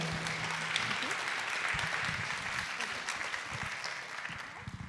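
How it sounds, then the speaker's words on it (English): A crowd claps steadily, dense applause that holds at a constant level before tapering off slightly at the end. "a huge round of applause for Lori Dawson, who's put this amazing trip"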